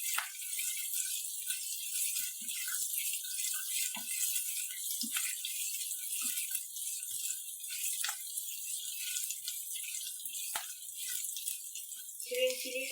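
Green chillies sizzle in a hot pan as they are sautéed for samosa filling, with a steady bright hiss and occasional small clicks and pops.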